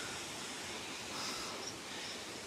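A waterfall in the Atlantic Forest heard from a short distance ahead, a steady broadband rushing roar with no breaks, moderately loud and alone.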